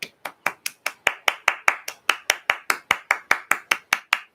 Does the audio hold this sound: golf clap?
yes